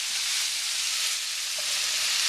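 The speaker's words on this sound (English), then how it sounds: "so that means you sweat the onions a little." Onions and carrots sweat in bacon fat, a steady close hiss of sizzling without a break.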